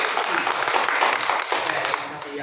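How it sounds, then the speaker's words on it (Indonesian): Classroom applause from students after a group presentation in a school lesson, a steady dense patter of many hands clapping close by for a couple of seconds, easing slightly at the end. "Tepuk tangan dulu untuk."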